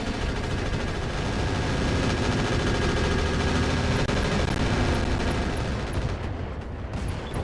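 Mech weapons and rockets fire in Roguetech as an unbroken, roaring barrage of rapid shots and blasts, loud and saturated throughout, fading slightly near the end.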